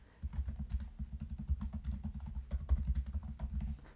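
Fast typing on a computer keyboard, a dense run of close, crisp keystrokes with an uneven rhythm and brief pauses, heard alone with no speech.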